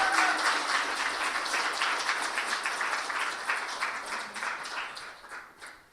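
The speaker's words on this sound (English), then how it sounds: "Everyone give them a round of applause" An audience at an awards celebration applauds steadily, a dense wash of clapping from a mid-distance crowd that carries on for several seconds and gradually thins toward the end.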